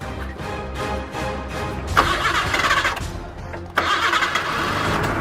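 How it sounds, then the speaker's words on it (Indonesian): A car engine cranks with a rhythmic starter churn, then catches twice in rough, rising bursts that settle into a close, revving idle. "coba saya nyalain mesinnya."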